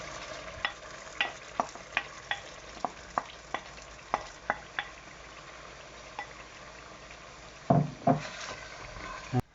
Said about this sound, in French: On va les laisser mijoter avec la sauce tomate.